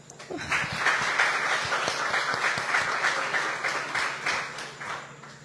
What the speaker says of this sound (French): je vous demande d'applaudir la modératrice de cette soirée